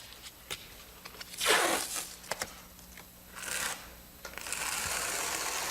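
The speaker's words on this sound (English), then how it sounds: "to hold it in place until the thin set dries, a couple of pieces of adhesive tape will do." Adhesive tape pulled off a roll and torn during wall tiling, several sharp ripping rasps with small clicks and handling noises in between, close and moderately quiet.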